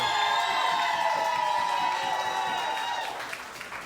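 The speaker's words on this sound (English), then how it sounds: "clap your hands." A comedy-club crowd clapping and cheering for more jokes, loud sustained applause with whoops throughout, slowly thinning toward the end.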